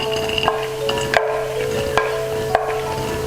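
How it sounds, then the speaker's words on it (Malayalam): Coconut pieces fry in ghee with a soft steady sizzle, punctuated every second or so by sharp scrapes and taps of a stirring spoon, while making unniyappam. "ഇങ്ങനെ ഇതിൽ നെയ്യിൽ തന്നെ കിടന്ന് മൂത്ത് വരും"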